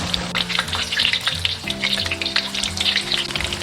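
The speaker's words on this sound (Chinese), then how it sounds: "所有的豆腐都浮上来了，但是里面的豆腐还没熟透，所以我们还要继续炸。" Tofu deep frying in hot oil, a dense, steady crackling sizzle that fills the whole stretch, loud and close, with no voices.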